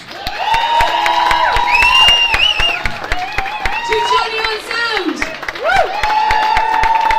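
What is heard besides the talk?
audience applause and cheering at a burlesque festival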